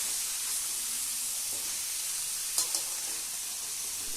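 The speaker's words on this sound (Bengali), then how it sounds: "তারপরে সবজিগুলোকে নেড়ে চেড়ে নিয়ে মিশিয়ে নেব।" Salt-marinated vegetables for a Bengali niramish labra sizzling in a pan over a low gas flame, a steady bright hiss with a couple of sharp clinks from stirring, with no voices.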